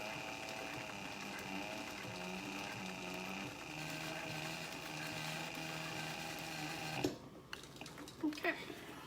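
A sewing machine stitches the edges of a planner cover with a steady mechanical whir and clatter, close and moderately quiet, then stops and leaves a few handling clicks and taps.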